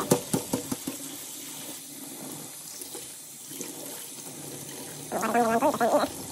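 Water spills from a leaking aquarium canister filter: a few sharp drips and splashes early on, a quieter stretch, then a louder burst of running, gurgling water near the end, with no voices.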